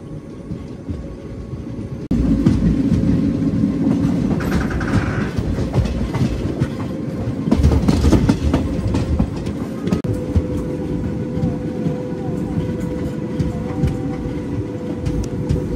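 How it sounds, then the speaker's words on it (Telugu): Narsapur Dharmavaram Express rolling into Pakala Junction station, a steady loud rumble of wheels and carriage noise with rhythmic clatter over rail joints, heard from on board and swelling slightly midway. "స్టేషన్ లోపలికి వెళ్తుంది."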